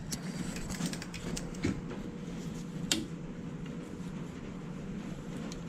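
A Harbor Freight torque wrench set to 72 inch-pounds gives one sharp, brief click during work on a 47RE transmission repair, heard close against a low, steady background hum.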